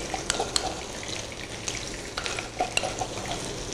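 Crushed garlic-ginger paste frying in a pan, a constant close sizzle with light crackling pops and stirring scrapes, with no one speaking.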